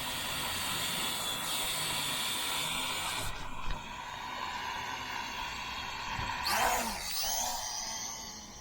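Small motors of a Holy Stone HS440 FPV drone spin up into a steady, whirring hiss that continues throughout, with a brief swell and a faint clatter near the end.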